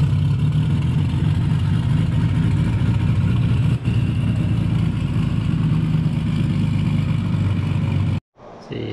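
A Messerschmitt aircraft engine on a museum exhibit at the Finnish Air Force Museum in Tikkakoski runs with a loud, steady, rumbling drone and mechanical clatter for about eight seconds, then cuts off abruptly.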